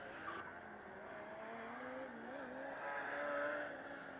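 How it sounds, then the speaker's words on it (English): Formula Student race car engines during an endurance event whine and drone in the distance, pitch shifting as cars pass by, steady and fairly faint. "I'm just listening to the cars driving by"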